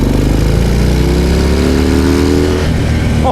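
A Harley-Davidson FXDR 114 motorcycle engine roars loud and close, its deep rumble climbing steadily in pitch as it accelerates hard.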